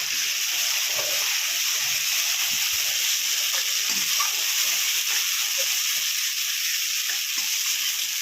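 Spices and turmeric frying in hot oil: a steady, loud, hissing sizzle that runs unbroken throughout, with faint stirring scrapes underneath and no talking.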